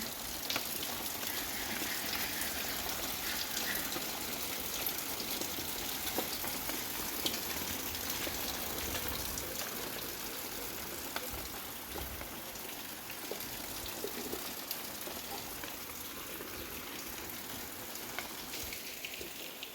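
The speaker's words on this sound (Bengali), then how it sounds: "দেখো বাহিরে বৃষ্টি হচ্ছে" Rain falls outside in a continuous, soft, even patter of drops on surfaces, heard alone without talk.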